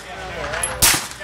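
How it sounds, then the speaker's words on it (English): A single SIG P226 ZEV pistol shot at an outdoor range media day, a sharp loud crack partway through, surrounded by chatter and background talk. "Shooting the 226 Zev."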